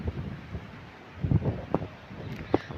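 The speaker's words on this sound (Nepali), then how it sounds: "हावाले त उडाउला जस्तो गर्छ" Cold, strong wind gusts during rain, a soft steady rush with a few sharper buffets and rustles, fairly quiet and without talk.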